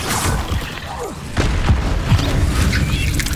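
Spell effects from the Hogwarts Legacy video game, Expelliarmus and Levioso, sound as a steady dense rush of magical whooshes with a couple of heavier booming hits midway, loud and continuous with no talk over it.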